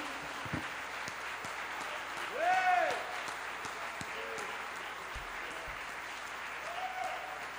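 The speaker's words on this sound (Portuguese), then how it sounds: "dê uma salva de palmas bem forte" Congregation at a men's church service claps in a sustained, moderately distant round of applause, while a voice briefly rises and calls out over the clapping partway through.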